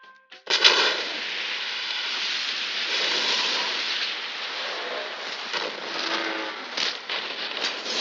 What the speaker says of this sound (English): Starting with Heath Ledger's explosion scene in Dark Knight